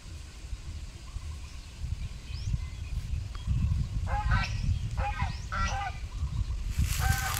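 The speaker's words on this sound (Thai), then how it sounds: "เสียงห่านไม่ใช่เป็ดนะครับผม" Geese honk by the water in a few short bursts of nasal calls, fairly distant over a constant wash of background noise, with a louder honk at the end.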